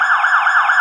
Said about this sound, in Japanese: スピード違反でクラッシュして、サイレンか。